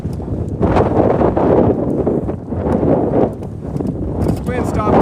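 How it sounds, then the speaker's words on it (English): Strong gusting wind during a bicycle commute through severe thunderstorms in northern Nevada, a loud continuous roar buffeting the microphone for the whole stretch, with some talking over it. "This wind stopped me a little bit."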